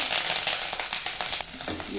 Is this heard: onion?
yes